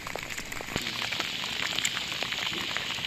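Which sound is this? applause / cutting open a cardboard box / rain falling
rain falling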